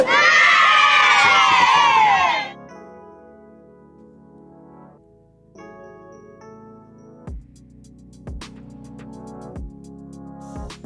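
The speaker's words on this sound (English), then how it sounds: "the kids cheering would have been loud because it goes through my microphone channel in OBS" A children's cheering sound effect, routed through a streamer's OBS microphone channel, bursts out loud with shrieks and shouts for about two seconds, then cuts off. A quiet hum, faint tones and a few sharp clicks follow.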